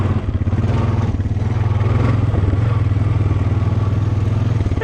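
A four-wheeler ATV engine runs steadily up close, its loud, low throbbing drone holding for about five seconds with no break and no talk.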